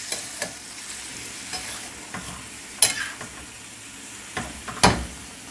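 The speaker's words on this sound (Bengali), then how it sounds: "সমস্তটা খুব ভালো করে মিশিয়ে দেব।" A spoon stirs potato, bitter gourd and poppy seed curry with a little water in a pan, giving soft scraping strokes and a few sharper knocks over a low, continuous sizzle.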